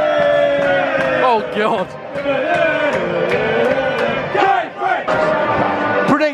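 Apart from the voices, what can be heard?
football fans making noise in stadium stands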